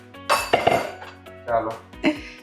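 Ceramic bowls set down one after another on a table for serving kanda poha at a home meal with friends, several clinks and knocks in quick succession with a short pause, close and clear.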